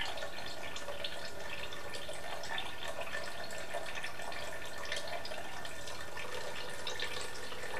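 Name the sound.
liquid dye bath being decanted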